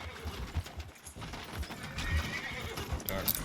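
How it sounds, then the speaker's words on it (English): Horse in a western roleplay video game whinnying while its hooves clop and drag along a town street, close and irregular, with someone talking over it. "Why are you dragging a horse through town?"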